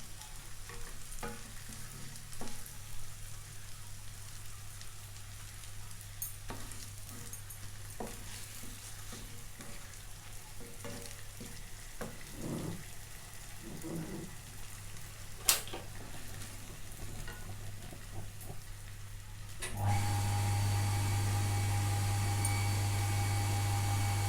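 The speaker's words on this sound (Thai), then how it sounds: "มีเสียงปั๊มดังนิดนึงนะคะ" A water pump drones steadily in the background of a home kitchen, a low constant hum under faint clatter that steps up noticeably louder near the end.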